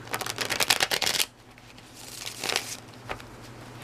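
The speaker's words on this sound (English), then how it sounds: "I'm shuffling the cards." Gilded Tarot cards are shuffled by hand, a quick riffling burst of crisp flutters close by, then softer intermittent shuffles and taps in a quiet room.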